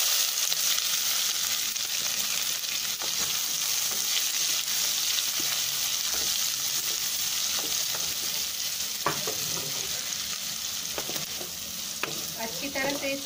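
Onions frying with cumin in hot oil for dum aloo, a dense continuous sizzle held close and loud, broken by occasional scraping stirs of a spoon against the pan.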